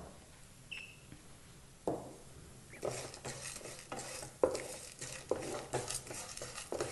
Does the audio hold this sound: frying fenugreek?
yes